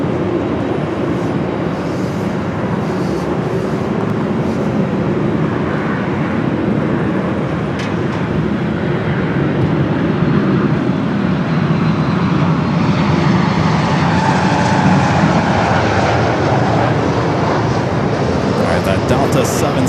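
A 27-year-old Delta Boeing 767-300ER bound for Atlanta lines up at LAX: a loud, steady, broadband jet engine roar fills the whole stretch, with faint voices under it.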